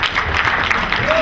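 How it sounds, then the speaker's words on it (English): Audience applause at a Blair Witch Project convention panel during Days of the Dead in Atlanta, a steady wash of clapping from a crowd, with a voice partly audible over it. "Give yourselves a round of applause"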